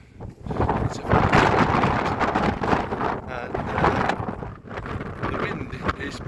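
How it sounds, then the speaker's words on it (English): Cold wind buffets a microphone outdoors on a hilltop on New Year's Day in the United Kingdom, loud irregular rumbling gusts swelling and easing, with a voice partly buried underneath. "the wind is particularly cold today"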